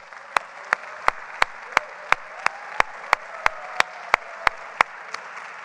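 A mayors' summit audience applauds a speaker. Crisp, evenly timed claps stand out over a soft background wash of the crowd, steady and close throughout.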